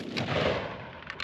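Rapid gunfire from a GAU-5 style rifle fitted with an Atrius Super Selektor, a loud close burst of shots run together, ending in a couple of sharp final reports.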